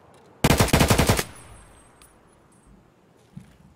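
A rapid burst of automatic gunfire in the shooter game Escape From Tarkov, about eight loud close shots in under a second, then a quiet tail with a faint later click.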